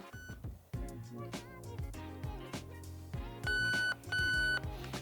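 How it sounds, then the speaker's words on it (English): Programming beeps from a Nebula II MOSFET in a Lancer Tactical Gen4 or Zion Arms R15 airsoft rifle, with two long steady tones near the end over a busy background of other tonal sounds. "we're going to go back to on, 1 beep"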